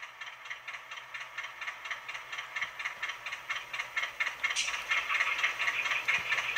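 A PIKO HO Whitcomb 65-ton diesel locomotive's sound decoder plays its air-compressor effect, a rapid rhythmic chuffing rattle at moderate volume that swells slightly and continues steadily throughout.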